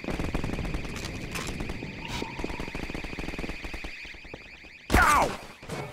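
Rapid, continuous automatic fire from a video-game turret rattles through most of the clip, with an alarm-like tone over it and a loud burst near the end.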